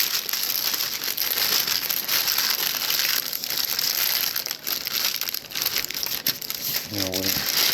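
Wrap crinkling and crumpling loudly and continuously as it is folded around a beef Wellington, close up, with a brief voice near the end.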